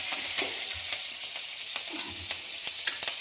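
Chopped green chilli and tomato dropped into hot mustard oil with panch phoron, a dense close sizzle with sharp spatters and a few stirring knocks, no voices.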